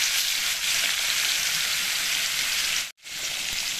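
Pieces of bitter gourd fry in hot oil with a dense, steady crackling hiss close by. The sizzle cuts out briefly for an instant, then resumes just as strong.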